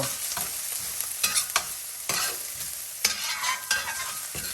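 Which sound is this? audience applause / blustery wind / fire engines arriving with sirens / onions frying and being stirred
onions frying and being stirred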